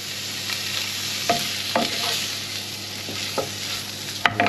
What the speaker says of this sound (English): Turn the heat up a little bit and just sear these off